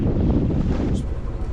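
Steady wind blowing outdoors on a cold, rainy day, a continuous low rumbling roar buffeting the microphone with no pauses.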